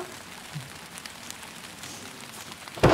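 Heavy rain pouring as a dense, steady hiss that stays even throughout, closing with a louder close thump, and nobody speaking.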